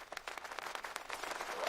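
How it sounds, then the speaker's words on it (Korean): Village crowd in Joseon-era Korea bursting into applause, a short burst of dense, lively clapping at moderate loudness. "마을 사람들 사이에서 박수 소리가 터져 나왔습니다"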